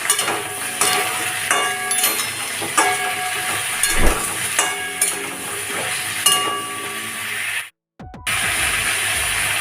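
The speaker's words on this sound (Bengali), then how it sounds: "এবার আমি এগুলো ভালো করে ভেজে নেব" Pointed gourd, brinjal and potato frying in hot oil give a continuous hiss, broken by occasional utensil clinks and a brief drop to near silence shortly before the end.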